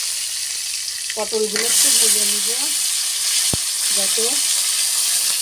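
Pointed gourd (potol) frying in the leftover oil from fried prawns, a steady close hiss and sizzle throughout with a brief utensil clink, while someone speaks briefly over it.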